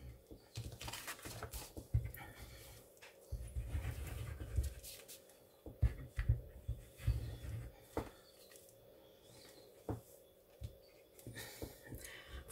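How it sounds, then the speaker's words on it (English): A dog pants and whimpers faintly in the background, with scattered soft rustles and patters. "that's my dog you can hear in the background"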